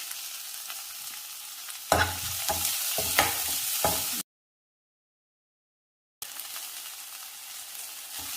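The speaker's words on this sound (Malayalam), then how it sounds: "അതിലേക്ക് നമ്മൾ ചതച്ച് വെച്ചിരിക്കുന്ന ബാക്കിയിരിക്കുന്ന വെളുത്തുള്ളി ഉണ്ടല്ലോ, ആ വെളുത്തുള്ളി ചേർക്കാം." Crushed garlic, ginger and shallots hit hot coconut oil with a sudden loud sizzle, punctuated by several sharp stirring clatters, then a steady frying hiss that cuts out briefly before resuming.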